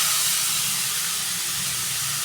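Grated carrot is tipped into hot ghee in a kadhai for carrot halwa, raising a loud, steady sizzling hiss that runs unbroken from start to finish with no talking.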